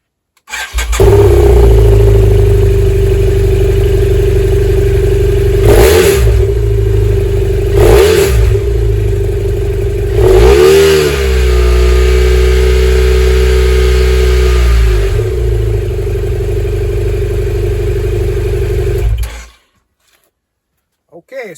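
A BMW F650GS motorcycle engine with its original exhaust idles steadily and close, rising in a few quick revs before settling, then cuts off at the end.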